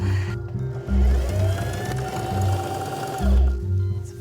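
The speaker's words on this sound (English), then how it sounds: "And we're just going to sew a straight line." Sewing machine stitching a straight French seam on a skirt, its needle chattering in a rapid rhythmic pulse that runs in bursts with short pauses, close and clear.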